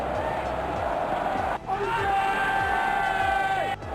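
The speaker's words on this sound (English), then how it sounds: "Crowd is going crazy." A stadium crowd roars and cheers continuously in the cricket video game Real Cricket 20, with whoops rising over the loud, steady crowd noise and a brief dip partway through.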